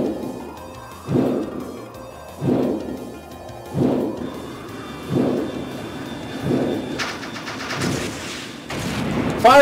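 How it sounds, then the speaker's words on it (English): Missiles fired in Trails in the Sky SC, a series of about seven heavy booming launches at a steady rhythm, each with a low rumbling tail, followed by crackling bursts near the end. "Firing missiles!"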